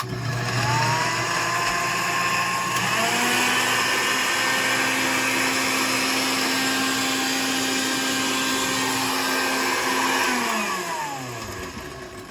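A blender whirls a citrus sesame garlic dressing made with lime, a loud steady whine that ramps up, holds for several seconds, then winds down.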